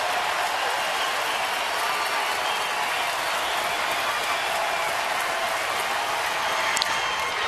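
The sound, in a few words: baseball stadium crowd standing and cheering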